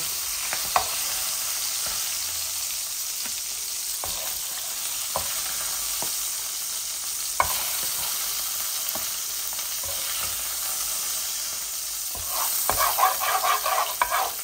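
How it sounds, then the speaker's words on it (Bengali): Spices for a baghar tempering sizzle in hot oil in a frying pan for a fish-head curry, a steady close hiss broken by spatula scrapes and knocks, with a brighter burst of crackling near the end. "এখন আমি বাগারটা বসিয়ে দেব।"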